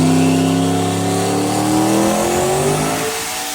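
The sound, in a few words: 1100+ hp turbo 5.3 Mustang making a dyno run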